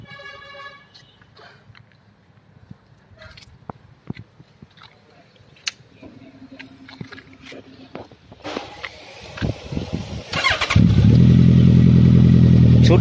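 A Honda CB1100 motorcycle with a short, high-mounted slip-on exhaust fitted to the stock header is started: light clicks and handling noises give way to cranking, then a loud, deep, steady idle close by.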